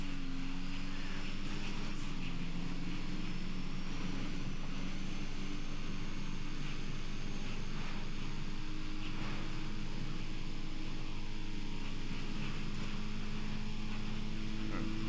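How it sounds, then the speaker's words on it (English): Racing engines drone together at the start of a race, a steady layered hum heard from a moderate distance with no talking. "Listen to those engines."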